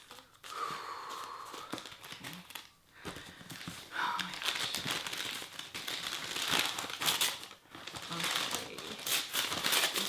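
Packaging around a Chanel bag delivery torn and crinkled open by hand, a close crackling rustle of paper and plastic in repeated bursts with short pauses between.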